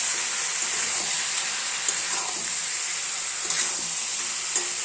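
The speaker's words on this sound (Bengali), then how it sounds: "দেখুন বন্ধুরা, মাংস বসিয়ে দিয়েছি" Meat sizzling in a pan over onions fried until reddish-brown, a steady broadband hiss with faint stirring clinks, close and continuous with no talk.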